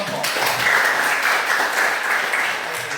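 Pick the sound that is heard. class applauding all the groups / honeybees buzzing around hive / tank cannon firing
class applauding all the groups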